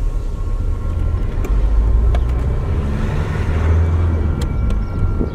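A car circling the block gives a continuous low engine and road rumble heard from inside, loud and steady, with a few faint clicks and no talking.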